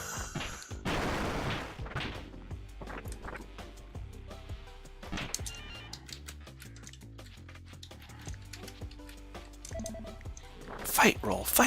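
Gunfire in the video game Death Road to Canada, scattered sharp shots and bursts heard under someone talking, with a loud burst near the end.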